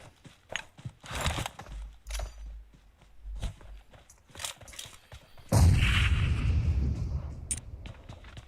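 Bombing-zone explosions in PUBG Mobile, with a deep rumbling blast that swells and lingers after a series of sharp gunshot-like cracks and footsteps.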